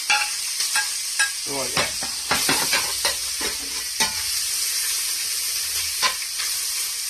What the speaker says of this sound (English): Now I'm throwing my bolognas in this one. Let's fry them.